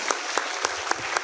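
Brief applause from an audience at a national defence education session, with a few sharper claps standing out through a steady wash of hand-clapping.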